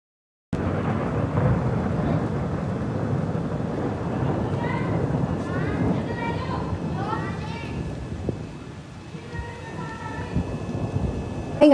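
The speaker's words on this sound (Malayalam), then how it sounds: "ഞാനങ്ങനെ വെളിയിൽ ഇറങ്ങി നോക്കുമ്പോൾ നല്ല ചെറിയ ചാറ്റൽ മഴയും നല്ല ഇടിയും മിന്നലൊക്കെ ഉണ്ട്" Thunder rumbles outdoors during light drizzle, with a steady wash of rain noise throughout and faint voices drifting in partway through.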